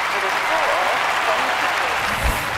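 Steady, dense applause from a crowd at a London 2012 Olympic archery event in a video game, continuous and loud throughout the short stretch.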